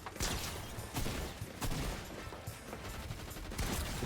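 Gunfire rattles through a Fortnite match in no-build mode: dense, rapid bursts of shots overlapping in a busy, moderately quiet barrage that lasts the whole stretch.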